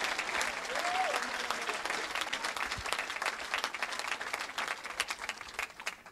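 Church congregation in Evry, France, applauding together, a dense sustained clapping from a large crowd that fills the room, with voices mixed in underneath.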